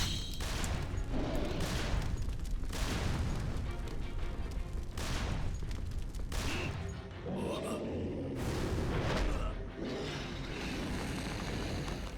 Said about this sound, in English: I'm just gonna shoot his body.